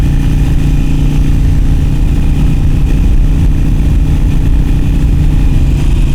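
A loud Harley-Davidson Iron 883 motorcycle engine running steadily on the road with a constant deep rumble and hum, close up and unbroken throughout.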